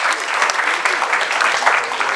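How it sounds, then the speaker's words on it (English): Wedding guests clap in a steady round of applause, dense and close, filling the room without a break for a couple of seconds. "Yeah, nice round of applause."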